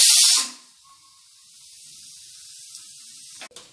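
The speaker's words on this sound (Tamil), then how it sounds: "இப்போ விசில் வந்துருச்சு, நம்ம வந்து ஸ்டவ் ஆஃப் பண்ணிடலாம்." A pressure cooker holding moong dal, cumin and turmeric lets out a short, loud burst of steam hiss at the start, then falls to near silence with a faint background hiss.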